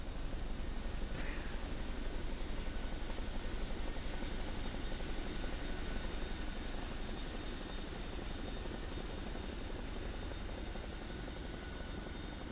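Helicopter in Microsoft Flight Simulator 2024 on PlayStation 5 Pro, a continuous dense rotor and engine drone that stays steady and loud throughout with no voices over it.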